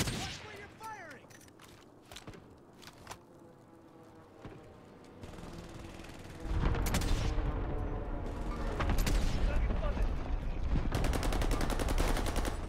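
Gunfire in the shooter game Warzone, rapid bursts and single shots crackling in dense volleys that grow louder and more sustained toward the end.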